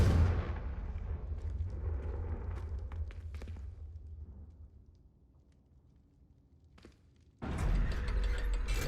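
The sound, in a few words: Confringo spell cast in the video game Hogwarts Legacy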